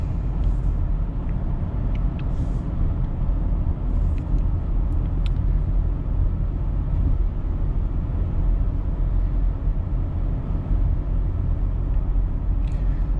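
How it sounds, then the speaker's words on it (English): Subaru Outback Wilderness cruising on a road, a steady low tire-and-wind rumble heard from inside the cabin, constant and unbroken with a few faint ticks. "There's a lot less road noise"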